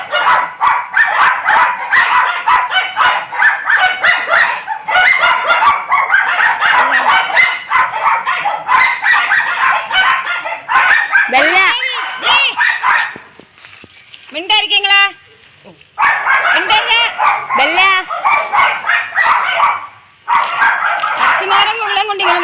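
Someone talks almost continuously while a few dogs bark and yelp in the background, the barks clearer during short pauses in his speech.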